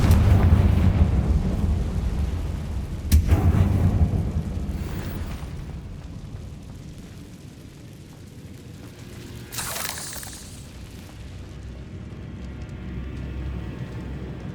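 A Confringo blasting spell in Hogwarts Legacy goes off as a deep, rumbling explosion, then a second sharp burst follows several seconds later over a steady low roar.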